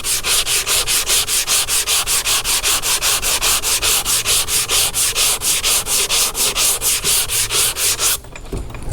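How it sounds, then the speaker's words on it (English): Block sanding a fiberglass bumper lip on a 1979 Chevy Malibu to remove guide coat, a loud, steady back-and-forth rasp in quick regular strokes, close up, stopping near the end. "I just gotta continue blocking till I remove the guide coat"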